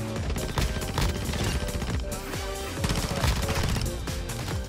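Dense, rapid gunfire from Modern Warfare 2 on the Shipment map, overlapping automatic bursts and single shots crackling loudly and continuously with no pause.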